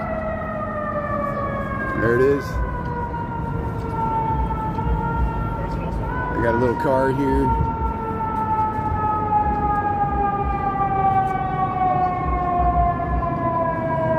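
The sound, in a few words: emergency vehicle sirens in city street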